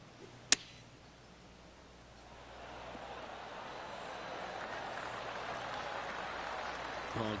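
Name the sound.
golf clap, polite applause from golf spectators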